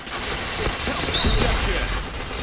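Rapid gunfire from the shooter game Point Blank forms a dense, loud stream of overlapping shots, with a player's voice over it.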